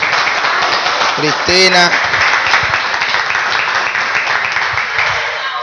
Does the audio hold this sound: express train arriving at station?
no